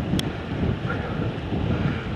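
Strong gusts buffet the microphone beside wind-driven waves breaking on Goat's Water, a mountain lake below Coniston Old Man, a loud continuous roar with one brief sharp tap near the start.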